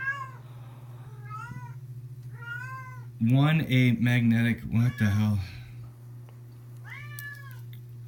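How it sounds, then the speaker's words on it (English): A house cat meows repeatedly and loudly nearby, several short rising cries spaced a second or so apart over a steady low electrical hum, while someone speaks briefly in the middle. "my god, that's friggin' annoying, cat."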